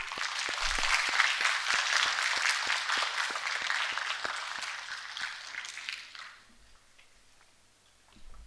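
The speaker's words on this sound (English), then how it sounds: "With a huge round of applause, please welcome Mr. Kaustoov Goswami." An audience at a conference talk event applauds to welcome a speaker, with dense, steady clapping that lasts about six seconds and then fades to quiet.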